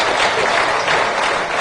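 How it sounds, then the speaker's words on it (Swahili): Sustained applause from a large audience at a national religious leaders' conference with the Prime Minister, honoring an AIDS administration committee; an even, continuous wash of clapping. "naomba tuwapigie makofi kamati ya utawala wa ukimwi"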